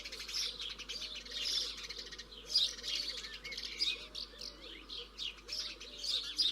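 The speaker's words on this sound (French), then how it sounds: "Madame Moineau domestique nourrit ses petits." A house sparrow feeds its chicks with repeated bright chirps and tweets in quick bursts, moderately close. Soft cooing sounds low in the background throughout.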